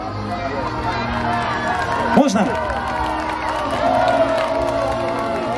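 A crowd cheers and applauds at a military history festival, a battle reenactment on the Vozha, the noisy broadband roar staying steady while a voice rings out briefly over it.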